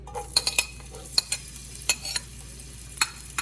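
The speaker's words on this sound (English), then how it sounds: "So I'm going to put that in my pot with about 1 tablespoon of oil" Half an onion and two small grated pimentos cooking in about a tablespoon of oil in a pot, heard as a soft, steady sizzle with a scattering of sharp clinks and scrapes of stirring.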